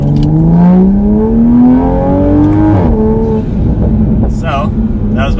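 A tuned Toyota Supra A90 with about 450 wheel horsepower pulls hard at full throttle from 20 mph in second gear. The engine note climbs loudly and steadily up to a shift, then keeps droning on, heard from inside the car with speech over it.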